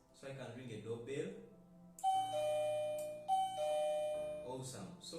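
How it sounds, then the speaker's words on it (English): A person speaks briefly, then a smart alarm system's electronic doorbell chimes twice with ringing, sustained tones that fade out before talking resumes. "So I can ring a doorbell."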